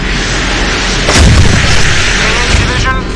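Warship artillery in Modern Warships fires a heavy boom over a dense, loud wash of engine and battle noise, with a single strong blast standing out near the middle.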